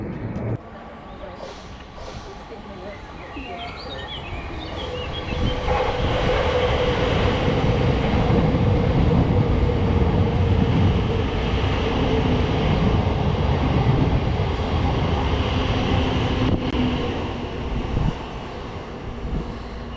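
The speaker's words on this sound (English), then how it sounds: "you might see a train come by." A South Western Railway train passes close by on the line toward Waterloo near East Putney, a broad sustained rumble swelling after a few seconds and holding steady before easing slightly, with no talk.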